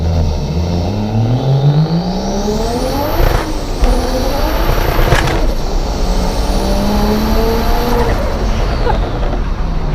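A single turbo BMW 335i accelerating hard under full throttle, engine pitch climbing through several gears with brief shift breaks, loud and close from inside the car.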